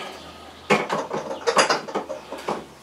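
A ratchet wrench works on an engine's spark plug, giving a series of close, crisp mechanical clicks in short irregular bursts, alone without speech.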